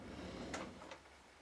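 A desk drawer pulled open, a short sliding rub followed by a couple of quick clacks, close and quiet in a still room.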